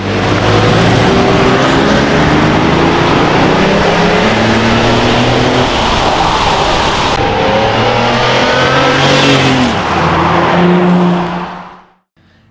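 A 1991 BMW 750i E32 with its V12 engine accelerates, a loud, smooth rising drone heard from inside the cabin that climbs through successive gears before cutting off abruptly near the end, with no talking.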